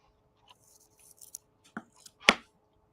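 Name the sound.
scissors cutting while building a model kit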